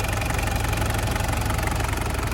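A Toyota Hilux Surf SSR-X 3.0-litre turbo diesel idles close up with the bonnet open, a steady rattling diesel knock running evenly and loudly throughout.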